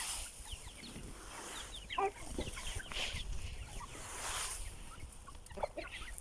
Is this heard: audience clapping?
no